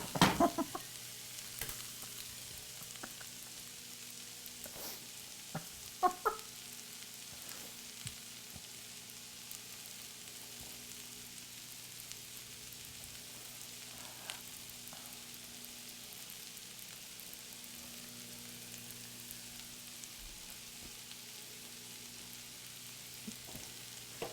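Trader Joe's Soycutash frying in a pan, a soft steady sizzle with scattered scraping stir clicks throughout, no talking.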